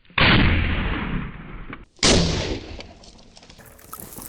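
A shotgun loaded with Hornady Critical Defense fires at a head target about five feet away, two very loud close booms roughly two seconds apart, each trailing off in a long rumbling decay.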